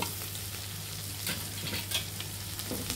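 Chili, chili powder, turmeric and coriander powder frying together in a pan for a cucumber and egg curry, a steady close sizzle with scattered crackles and stirring scrapes throughout, no talking.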